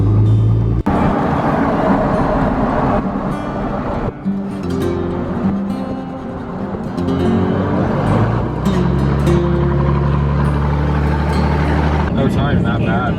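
A Cummins diesel truck rumbles along at low speed while pulling out a stuck truck, its deep engine drone running under casual talk from people nearby.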